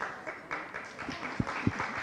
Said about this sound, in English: The applause is speaking for itself.